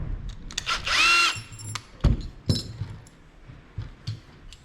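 A cordless power drill whirs in a short, loud burst while unscrewing the backs of boat fittings, followed by clicks, clinks and handling knocks of small parts close by.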